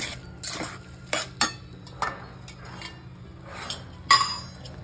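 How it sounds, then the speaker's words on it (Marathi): Kurdai bhaji, soaked wheat-starch kurdai seasoned with salt, is stirred with a spoon in a pan, making uneven scraping clinks of metal on metal in short irregular strokes, close by and with no talking. "मिक्स करायचं व्यवस्थित"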